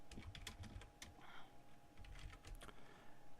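Typing on a computer keyboard while entering a command at a Linux prompt, quiet and close. Several quick bursts of key clicks come in uneven runs, separated by short pauses.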